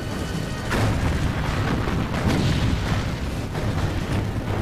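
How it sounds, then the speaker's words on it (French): Heavy booming blasts of 406 mm and 355 mm naval cannon fire at Guadalcanal, several deep thuds rolling one after another over a rumbling, noisy background. "Un bruit de tonnerre retentit à chaque coup de canon de 406 et 355 mm."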